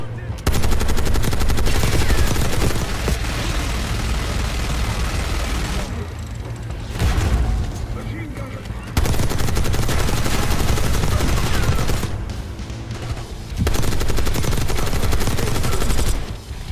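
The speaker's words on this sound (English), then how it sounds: "Watch the minigun." In the Call of Duty Black Ops 6 campaign, a minigun roars in long, loud sustained bursts with short pauses between them, layered over heavy battle noise.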